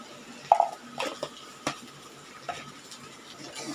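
A dosa spatula stirs okra stir-fry (vendaikai poriyal) in a pan, giving scattered scraping clicks and taps over a soft oily sizzle.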